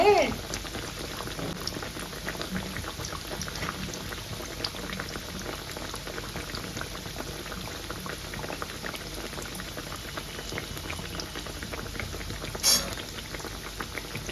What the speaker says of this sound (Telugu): ఆ పచ్చి కరివేపాకు పచ్చి ఆనియను ఇంకా స్వీట్ కార్న్ అసలు నూనెలో వేగుతూ